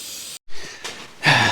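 Spray paint hissing onto the overspray areas of a 1953 GMC truck chassis underside: short close bursts of airy spray separated by brief gaps, the last burst loudest.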